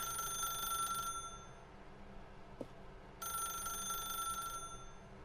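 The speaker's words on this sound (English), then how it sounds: "Muss ich wirklich an dieses Telefon reingehen?" Electronic telephone ringing inside the video game The Stanley Parable, two long ring bursts separated by a short pause with a faint click between, steady and fairly quiet over low room hum, no talking.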